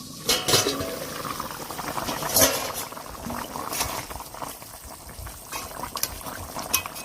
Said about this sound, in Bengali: তরকারি ঝোলটা ফুটে গেছে